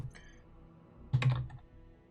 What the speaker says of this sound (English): Typing it wrong.